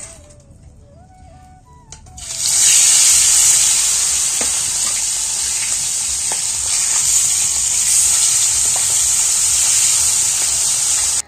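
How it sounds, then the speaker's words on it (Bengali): Fish goes into hot oil in a wok and bursts into a loud, steady sizzle and spitting hiss that continues close up after a quieter start with faint background sounds. "কড়াইতে তেল দিয়েছি, এখন ভাজবো হচ্ছে মাছ।"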